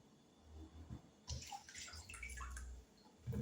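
Diced fresh Irish potatoes being rinsed under running tap water, a splashing stream with gurgling and dripping that swells and fades across a few seconds, close by with no talking.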